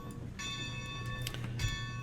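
A locomotive bell rings in the train game Railroads Online, bright metallic strokes repeating in an uneven rhythm over a low engine rumble, moderately loud with no talking.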